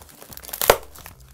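Packaging material crinkles and tears as a large parcel marked fragile, holding a Spin Master Monster Jam mystery multi-pack, is cut open with scissors, a quick crackle that peaks in one sharp rip, close and without talk.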